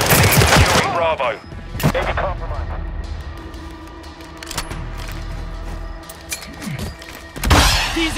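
Bursts of automatic gunfire and heavy impacts crack through a tactical shooter firefight, loud and close, with radio-style callouts about objectives and airdrops spoken over the shooting.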